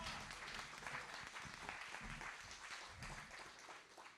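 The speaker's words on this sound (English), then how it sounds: "Let's have a round of applause for Tom" An audience at a small-business pitch contest claps for a judge introduced from a condominium board, steady applause with scattered sharp claps lasting about four seconds at moderate distance, no talk over it.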